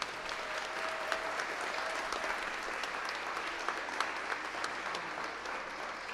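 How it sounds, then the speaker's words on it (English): An audience at a festival finale concert claps steadily in a sustained round of applause, dense and even throughout with no talking over it. "Let's give them all a round of applause."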